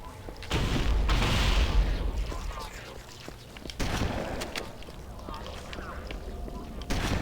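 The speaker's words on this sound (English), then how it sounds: "Chain explosion." Deep booming blasts go off in a rapid series in Halo, a chain of explosions rolling one after another, followed by further scattered bursts and gunfire through the game's battle noise.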